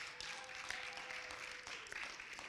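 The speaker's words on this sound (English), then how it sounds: "let's give our presenters and everyone who helped to assist tonight a round of applause." A TEDx audience at Wiley University gives a round of applause, a dense, steady clapping from the crowd that stays level for a couple of seconds.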